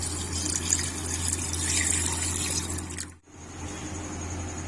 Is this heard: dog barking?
no